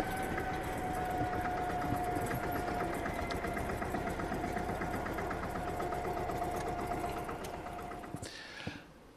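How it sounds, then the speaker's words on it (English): Vintage Tünkers Dieselross tractor with a single-cylinder diesel engine runs steadily and close by, a continuous rapid chugging knock with a sustained drone, fading and cutting off near the end. "This is a single cylinder diesel engine"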